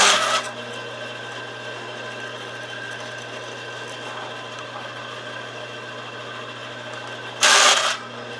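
Wooden dowels are pushed through a dowel length cutting jig: two short, sharp scraping bursts, one at the start and one near the end, over a steady low background hum.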